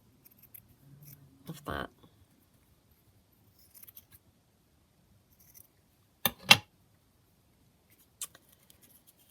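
Scissors snip through a small piece of lace during a craft project making flips and pockets: a few short, crisp cuts in a quiet room, with a brief spoken phrase nearby.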